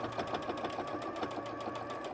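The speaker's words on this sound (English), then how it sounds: "when you're sewing through thicker fabrics that the machine can slow down and the stitches look shorter" A sewing machine stitching through thick fabric while making a cork bag, a steady close mechanical whir with an even rapid needle rhythm throughout.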